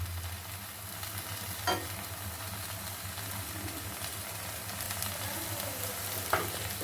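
A protein-rich breakfast snack frying on a pan with a little oil poured around the sides, a soft steady sizzle with a low hum beneath and a couple of faint clicks, close and quiet.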